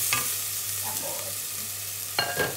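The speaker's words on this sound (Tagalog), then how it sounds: "Igisa natin yan hanggang sa mabango lang" Aromatics sizzle steadily in a pan close by, with a couple of brief scraping knocks from a stirring utensil near the start and end, and no speech.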